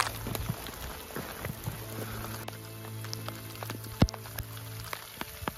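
Hail falling on a mountain trek on Kilimanjaro, a faint, steady patter of scattered ice clicks and taps over a low outdoor hum, with one sharper hit near the end and no voices.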